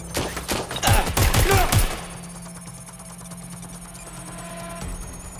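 Bursts of video game gunfire from Watch Dogs Legion crackle in rapid, loud volleys for about two seconds, then give way to a quieter steady hum with faint clicks.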